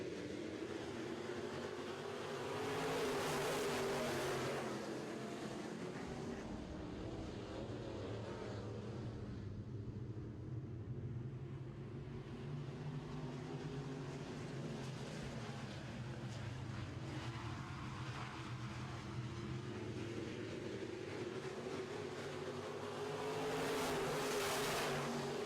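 Midwest modified race cars roar around a dirt track after the green flag, a dense, loud, sustained engine drone that swells and fades as the pack passes, with no talk.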